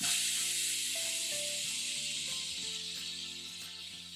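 A pressure cooker on the stove, cooking lentils with a spoon of ghee, releases steam through its whistle in a steady, loud hiss with music playing underneath.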